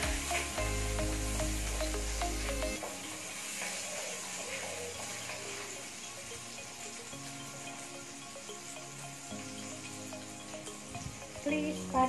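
Onion sizzles and fries in a pan for pumpkin soup, a bright crackling hiss with occasional clinks and stirring, moderately close, with a low hum dropping out early.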